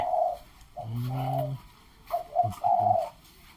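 Several doves coo nearby, a low rounded call repeated in short bursts, with brighter chirps in between.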